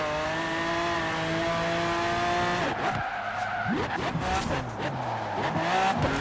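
A Bugatti Veyron in Forza Horizon 4 brakes hard into a corner on a dirt race in Britain, its steady engine drone breaking into a loud, wavering tire squeal and skid that rises and falls over several seconds.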